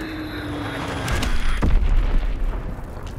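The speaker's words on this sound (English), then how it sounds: "Dropping Azon bomb." Azon bomb explosion in Call of Duty: WWII on Xbox One, a deep rumbling boom that swells in after a second and rolls on loudly with crackling debris before fading slightly.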